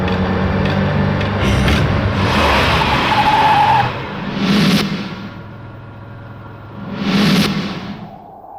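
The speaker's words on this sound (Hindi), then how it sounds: "चल, गाड़ी निकालो सेबेस्टियन, जल्दी निकालो गाड़ी।" In an action movie scene, a car revs hard and tires squeal as it pulls away; two more loud revving surges follow, close and without talking.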